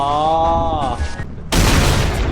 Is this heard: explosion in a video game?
yes